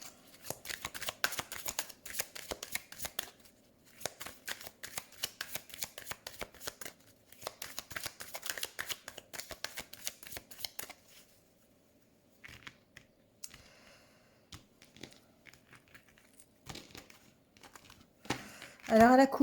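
Tarot cards shuffled in quick riffling bursts for a reading, crisp papery flutters repeating in several rounds with short pauses, close and clear, ending with a brief louder clatter.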